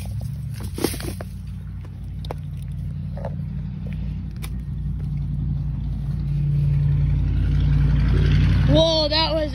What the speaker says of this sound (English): Whoa, that was a cool car.